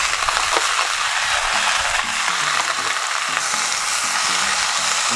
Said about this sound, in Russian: И добавляем наши креветки. Главное, чтобы разогрелась хорошо конфорка.